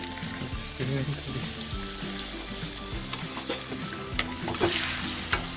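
Curry leaf paste sizzles and fries steadily in a pan for chicken curry, with a spoon stirring and scraping through it and occasional sharper clinks, close and continuous throughout.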